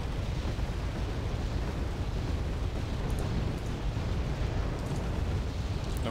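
Artillery explosions in the war strategy game Wargame Red Dragon merge into a dense, continuous rumbling roar. The sound stays loud and steady throughout, with no clearly separate blasts and no talk.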